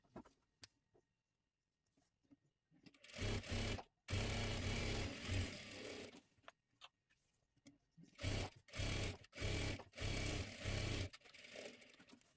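A sewing machine stitches a blouse seam in several bursts of rapid, steady whirring, starting and stopping with short pauses between runs, close and fairly loud.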